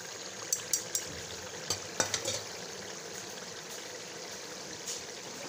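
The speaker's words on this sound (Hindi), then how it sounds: "अच्छी तरह भून चुका है, इसमें डालेंगे सब्जियां।" Mixed vegetables such as potatoes and carrots added to a pan for a restaurant-style dish, giving a soft steady sizzle of frying with several light clinks and taps of a spoon stirring, quiet and close.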